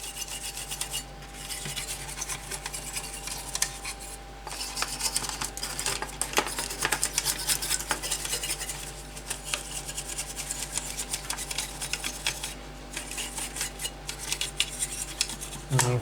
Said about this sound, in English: I'm going to give it a little quick whisk here